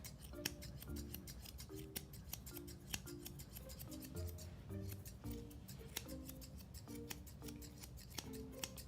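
Rapid snipping of 8.5-inch Monk grooming shears trimming a Goldendoodle's coat, a steady run of close, crisp metallic blade clicks repeating throughout, with no talking.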